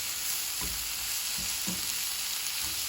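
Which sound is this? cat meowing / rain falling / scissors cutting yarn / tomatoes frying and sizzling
tomatoes frying and sizzling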